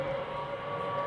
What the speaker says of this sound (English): The noise that you hear at the moment is the sound of the air raid sirens.